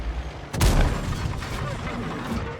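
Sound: artillery fire in World of Tanks, video game

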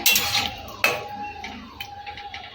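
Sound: lid put on cooking pot

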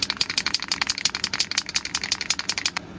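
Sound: shaking an aerosol spray can of white plastic primer

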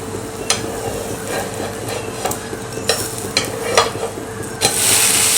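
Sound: jowar flour amboli flipped, sizzling on the pan

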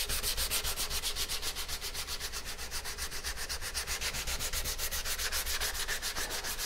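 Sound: sanding a wooden paddle by hand

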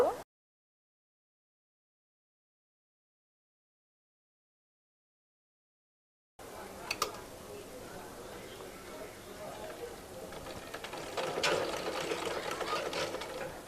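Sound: sewing machine stitching a baby frock neckline

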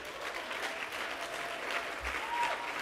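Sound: round of applause

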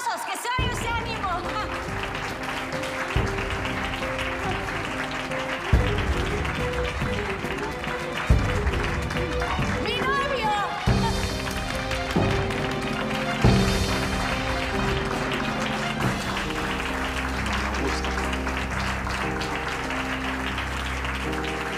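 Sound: applause

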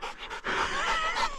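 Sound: young dog panting

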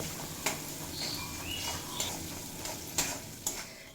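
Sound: frying ginger and tomato in a pan

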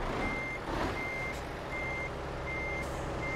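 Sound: truck reversing beeps while parking, Euro Truck Simulator 2 video game

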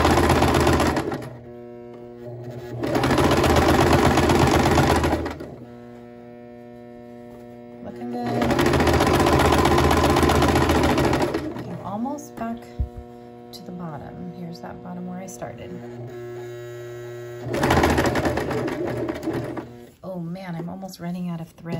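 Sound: sewing machine stitching a seam on a dress

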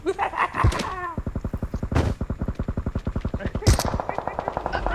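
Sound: gunfire in the video game PUBG

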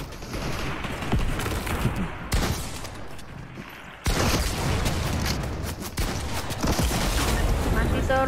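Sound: rocket launcher fire in the video game Fortnite

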